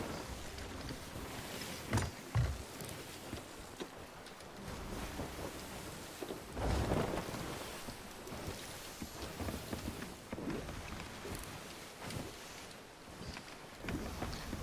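Rain pours steadily in the Sea of Thieves video game during a thunderstorm at sea. Heavier rushes and low rumbles of thunder swell now and then through the constant downpour, and no one speaks.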